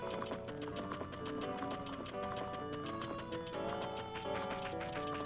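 Epona, the horse in the Zelda game Ocarina of Time, trots with steady clip-clopping hooves beneath a loud, continuous melodic game soundtrack that runs the whole time.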